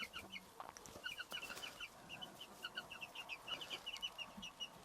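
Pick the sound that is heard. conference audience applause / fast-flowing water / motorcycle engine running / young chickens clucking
young chickens clucking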